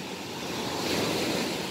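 Ocean surf rolling onto a clean white-sand beach near Anyer, a loud continuous wash of waves with wind buffeting the microphone and no voices.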